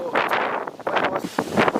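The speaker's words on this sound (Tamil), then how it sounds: "வேற லெவலாக காற்று வீசிட்டு இருக்கு" Strong cyclone wind blows in Chennai, a gusty roar buffeting the microphone in uneven surges, with no talk over it.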